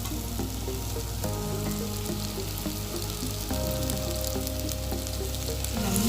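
Chicken sausage frying in a thick, spicy gravy, giving a steady, loud sizzle throughout, with music playing underneath.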